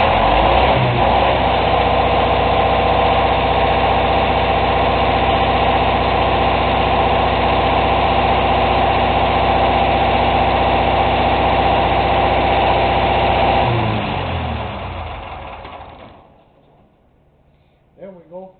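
An MEP military generator set's diesel engine idles loudly and steadily, a constant heavy drone that winds down and stops near the end, followed by brief clicks in the quiet.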